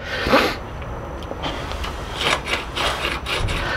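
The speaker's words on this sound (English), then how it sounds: "Listen that crunch. That's all the rust um, inside on the spring and on the inner tube" Rust crunching inside the spring and inner tube of a Moulton Deluxe bicycle front fork suspension, a close, gritty scraping crunch that rises and falls in several rough strokes.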